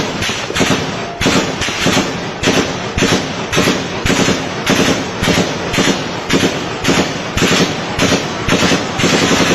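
Army machine guns fire in Islamabad in a run of sharp, loud, evenly spaced bursts, each cracking hard and close, repeating for nearly ten seconds without talk.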